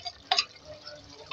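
Spiced potato and green onion curry is stirred in a pan, with a few soft scraping taps of the spoon and a faint sizzle between them, close and quiet, no voices.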